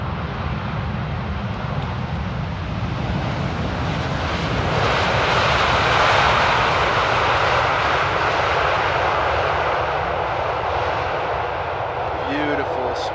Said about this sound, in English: Beautiful, smooth landing there by the Mayo Express.